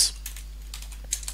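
Quick clicks on a computer keyboard while writing code, a handful of crisp, close keystrokes in an irregular rhythm over a low steady hum.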